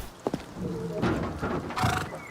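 A horse in the survival game Rust gives a short whinny and a few hoof clops over a busy game soundscape, with a person talking over it.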